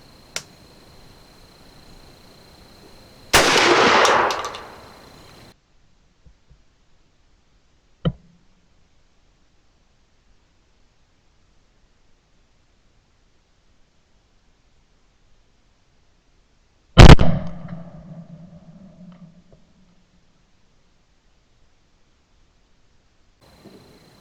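Two loud, sharp shotgun blasts from a waterfowl choke pattern test, fired about fourteen seconds apart. Each has a short ringing decay, with near silence and a faint click between them.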